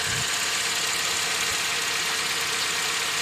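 A car engine idling during an oil change, a loud, steady broadband hum and rumble with an even texture throughout and no talk.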